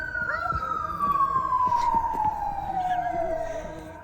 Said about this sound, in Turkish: Bak, o polis arabasının sesleri geliyor.